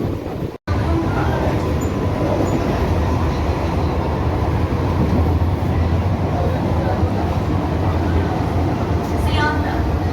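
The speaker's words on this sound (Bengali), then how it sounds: "আমাদের ট্রেন এখন বারাসাত স্টেশন ছেড়ে এলো" A Sealdah AC local train running between Barasat and Madhyamgram, a steady loud rumble of wheels and carriage noise that continues throughout, with no break other than a momentary dropout near the start.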